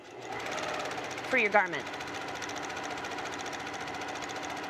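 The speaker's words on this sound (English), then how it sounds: "And just stitch, as if you were stitching your seam" A sewing machine runs a steady close stitching whir along a wide seam allowance beside the silk of a little black dress, while someone talks over it.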